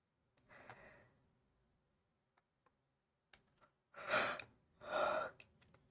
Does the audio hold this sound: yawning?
yes